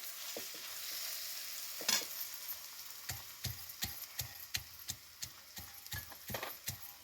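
Ingredients for a fasting kheer of sabudana and bhagar are dry-roasted in a pan until reddish. A spatula scrapes and knocks in a steady, rhythmic stir over a soft, constant sizzle. No one speaks.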